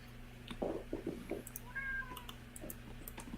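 A pet cat gives several short, soft meows in quick succession, close by and fairly quiet over a low steady room hum, with a brief higher whine in the middle.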